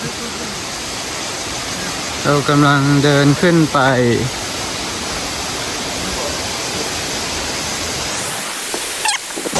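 Steady broadband rush of a waterfall fills the whole clip, loud and continuous, with someone speaking briefly over it.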